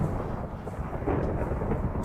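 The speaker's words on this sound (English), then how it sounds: "Oh, it's raining. It's thundering." Thunder in the Minecraft GregTech New Horizons modpack during an in-game rainstorm rolls as a low, steady rumble at moderate-to-soft volume with no talking.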